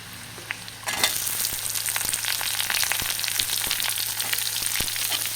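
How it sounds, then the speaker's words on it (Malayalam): Ginger, garlic, green chillies and onion drop into hot oil for paneer butter masala and burst into a loud, steady sizzle, with a few sharp clicks from stirring. "ഓയിൽ ഒഴിച്ചു ചൂടാവട്ടെ ഇതിലേക്ക് ഇഞ്ചിയും വെളുത്തുള്ളിയും പച്ചമുളകും ഇട്ട് ഇളക്കണം"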